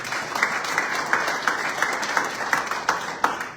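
A crowd at a Zimbabwean embassy event in Namibia gives a steady round of applause, with moderately loud clapping and some louder, more distinct claps standing out.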